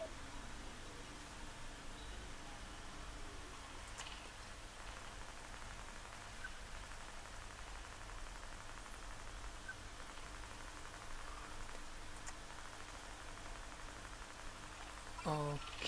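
Steady, faint rain falls in the farming game Story of Seasons: Friends of Mineral Town as a soft, even hiss that runs the whole time with little change.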